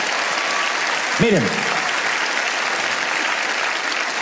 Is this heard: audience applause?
yes